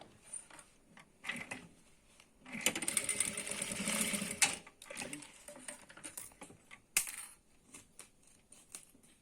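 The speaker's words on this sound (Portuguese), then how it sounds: "Costura o outro lado também." A sewing machine stitches bias tape onto a plastic toiletry case in one clear rapid whirring run of a couple of seconds, close and moderately loud, surrounded by quieter handling clicks and rustles.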